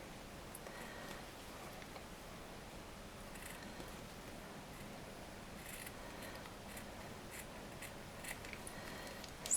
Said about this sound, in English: just do some very tiny little snips without going through the stitch line